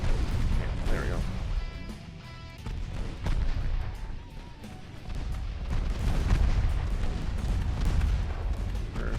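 Naval guns from warships in Ultimate Admirals: Dreadnoughts fire in repeated heavy booms and bursts over nine seconds, loud and rumbling, with battle noise throughout and someone talking over it.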